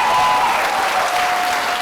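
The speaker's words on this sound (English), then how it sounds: "So give a round of applause." An audience at an evening honoring Atlanta Falcons quarterback Matt Ryan gives a loud, continuous round of applause, thick crowd clapping that stays steady for the whole moment.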